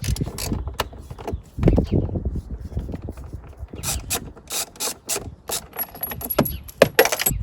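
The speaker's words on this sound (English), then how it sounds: "You're going to need a skinny socket with some sort of an extension." A skinny socket wrench on an extension works a 10mm bolt on a Jeep JL side mirror, giving off irregular close ratcheting clicks and metallic knocks in short bursts with quiet gaps between.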